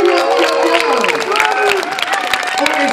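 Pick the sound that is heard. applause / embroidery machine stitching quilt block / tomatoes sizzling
applause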